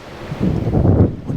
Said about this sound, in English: Windy as can be.